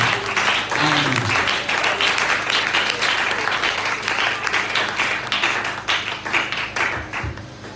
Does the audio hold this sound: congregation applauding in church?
yes